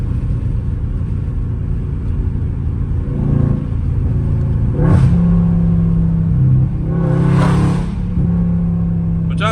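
A Dodge Scat Pack's engine rumbles steadily while driving, then revs up in a couple of loud surges. The deep exhaust drone is close and continuous throughout.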